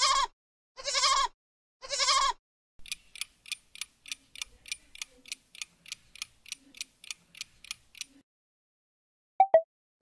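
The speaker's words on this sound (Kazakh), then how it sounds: "Әрине, лақ ешкінің төлі." Goat kid bleating three times in quick succession, close and loud, followed by a steady run of ticking and a brief faint chirp near the end.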